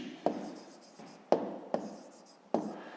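Pen or pencil writing by hand in a math exercise book, with short scratchy strokes and four sharper taps as each word or number begins, close and fairly quiet with no talk.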